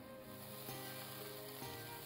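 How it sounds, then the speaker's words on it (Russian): Steady, dense sizzling of butter in a hot frying pan while making seafood julienne, crackling continuously at moderate loudness with no voices. "Сейчас в горячую сковороду добавляем сливочное масло."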